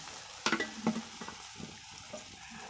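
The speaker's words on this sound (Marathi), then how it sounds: "मस्तपैकी कांदा गरम करून घ्यायचा तेलात" Onion fries in oil in a pan over a wood-fired stove, a faint, quiet sizzle broken by a few sharp clanks and scrapes of stirring near the start.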